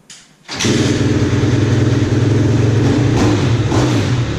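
A Yamaha YZ250F dirt bike engine, previously failing to start and fitted with a new spark plug, fires abruptly after a brief quiet moment, then runs loud and steady nearby with a throbbing idle and light revving.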